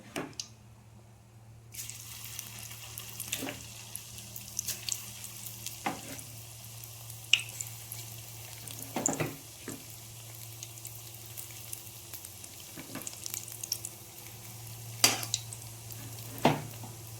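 Bor, lentil fritters, frying in a pan as a steady low sizzle of hot oil throughout, broken by occasional sharp spatters and clinks of a utensil, with no one talking.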